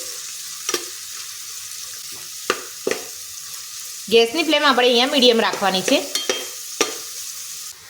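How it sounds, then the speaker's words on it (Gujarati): Finely chopped onions sauté in a pan for vegetable masala khichdi, giving a soft continuous sizzle with a few sharp spoon taps against the pan; someone speaks over it midway. "ડુંગળીને આપણે અહીંયા થોડી સતડાવા દઈશું।"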